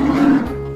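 A bear gives a short, deep roar, loud and close, lasting under a second.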